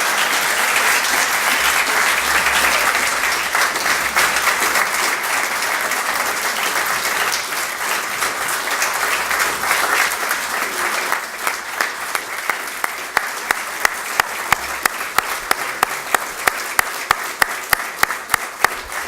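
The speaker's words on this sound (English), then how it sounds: "thank you for that warm applause" Warm applause from a lecture audience honoring a center's director, a long dense wash of clapping that thins toward the end into fewer, sharper individual claps in a regular rhythm.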